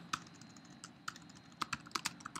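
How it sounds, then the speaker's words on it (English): Irregular clicking keystrokes on a computer keyboard, close and fairly faint, tapping out a short burst of typing with small pauses between keys. "Let me type the question."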